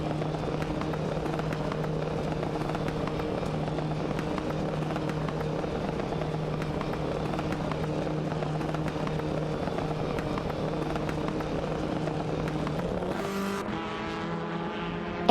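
Race cars in an AI racing video game, a steady droning engine whine with sustained tones holding for many seconds, then shifting pitch abruptly near the end, continuous and without talk.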